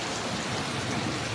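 Heavy rain pours steadily and densely, a constant broadband hiss with no pauses, and no voices are heard.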